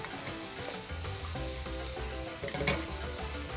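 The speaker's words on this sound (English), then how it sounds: "one of the best smells, in my opinion, is onion and garlic hitting hot oil" Onion and garlic sizzle in hot oil for a beef and sweet potato stir fry, a steady, dense crackle that stays close and even throughout with no talking.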